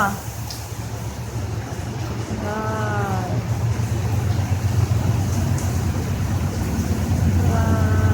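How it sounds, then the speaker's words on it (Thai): Heavy rain pours down in wind in Samsen, Bangkok, a dense steady hiss filling the whole stretch, with a voice speaking briefly over it twice. "ฝนตกหนักเลยค่ะ ตอนนี้ เห็นไหมคะ ตกหนักเลย"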